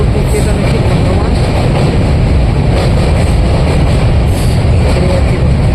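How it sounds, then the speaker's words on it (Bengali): A train pulls out of Dakshineswar station, heard from inside the carriage as a loud, constant rumble and rattle of wheels on the rails, with faint voices mixed into the din. "আমরা কিন্তু এখন দক্ষিণেশ্বর স্টেশন ছেড়ে বেরিয়ে যাচ্ছি।"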